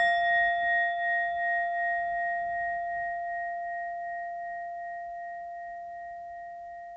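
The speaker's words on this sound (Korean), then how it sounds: "방금 이 벨소리가 울렸을 때 여러분 마음이 어디에 있었나요?" A meditation bell, already sounding, sustains a clear, pure tone that slowly fades over about seven seconds, heard alone without speech.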